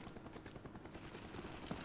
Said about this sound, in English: So I gotta wait till this chopper leaves.